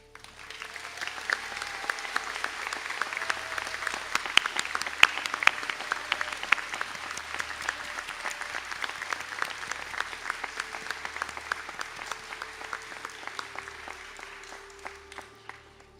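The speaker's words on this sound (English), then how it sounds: "stand for a round of applause" Sustained audience applause for graduates standing at a college conferring ceremony in a hall, a thick even patter of many clapping hands that holds for the full stretch before easing off.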